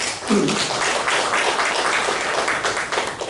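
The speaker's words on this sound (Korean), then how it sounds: "피스컵 승리를 위해서 함께 박수를 올려주시면 감사하겠습니다" A church congregation applauds together for a Peace Cup victory during a Sunday worship service, steady, sustained clapping from a crowd filling the room.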